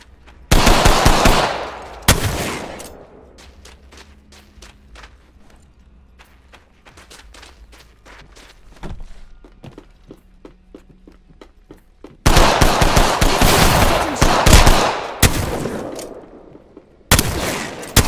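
Automatic gunfire from the Apex Legends video game comes in loud, rapid bursts at the start and end, with a sparser stretch of single shots and quieter clatter in between.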